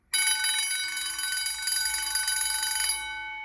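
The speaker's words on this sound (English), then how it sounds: "Oh, Bell's getting pretty weak there, that old Durabell." A weak old Durabell fire alarm bell in a 1970s middle school rings continuously for about three seconds with a dense metallic trill, loud and close, then stops abruptly.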